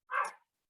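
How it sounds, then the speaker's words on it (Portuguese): A dog gives a single short, close bark and the sound cuts off into silence. "Nossa, minha cachorra, vocês estão ouvindo?"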